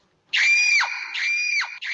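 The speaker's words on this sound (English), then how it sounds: "He heard a loud scream" A loud, piercing scream from a dubbed English cartoon of Little Red Riding Hood rises in three long shrill wails, close and alone.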